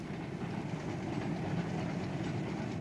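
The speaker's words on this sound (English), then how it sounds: "Another double-headed oil train heads eastward towards Liversedge." A double-headed steam oil train heads east towards Liversedge on a Pennine line in the 1960s, a continuous rumbling roll with faint rhythmic clatter, steady and moderately distant throughout.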